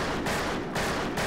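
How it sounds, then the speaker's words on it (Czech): A revolver fires in the western shooter game Fistful of Frags in a rapid burst of loud, close shots, a few evenly spaced blasts filling a short span. "Ta střelba je poměrně pomalá, tak co byste taky chtěli od obyčejného revolveru."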